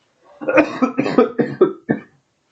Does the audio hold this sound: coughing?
yes